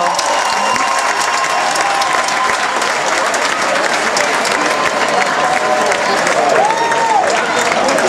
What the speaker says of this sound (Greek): τώρα δυνατά χειροκρότημα